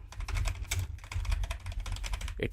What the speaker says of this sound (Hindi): नाउ मैं यहाँ पे कुछ भी डिटेल्स जो है एंटर कर रहा हूँ